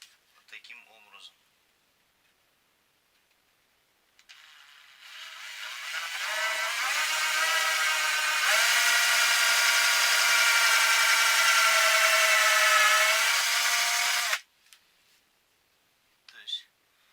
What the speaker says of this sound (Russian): я начинаю сверлить, где я закернил